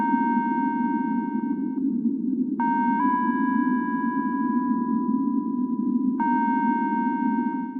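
Cassette tape music from the Puppet Master horror game, a thin, wavering organ-like tone over a constant low hum, with a few notes changing across a steady loop.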